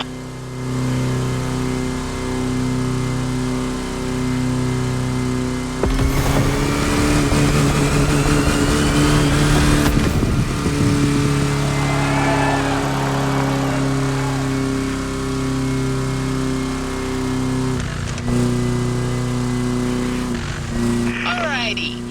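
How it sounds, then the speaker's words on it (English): Volkswagen Type 2 bus engine in The Crew Motorfest racing game, a steady mid-pitched drone that surges into a loud rev partway through, then settles back to a constant hum, with talk over it. "Let's push that good old Type 2 engine to its absolute limit."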